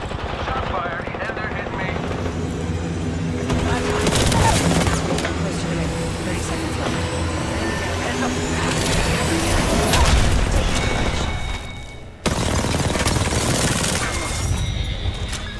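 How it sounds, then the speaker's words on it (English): Gunfire in Apex Legends, dense bursts of shots and booms running almost continuously under loud game noise and a droning engine-like hum, with a brief drop near the end before the firing resumes. "Shot fired."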